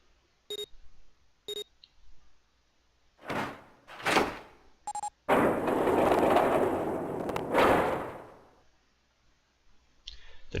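In the video game 999, a door opens after a few electronic keypad beeps and clicks, then a loud mechanical sliding rush lasting several seconds before it fades, followed by a quiet pause and a faint beep.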